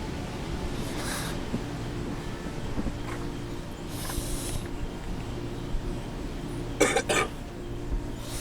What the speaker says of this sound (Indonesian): Udah batuk. Siapa yang batuk?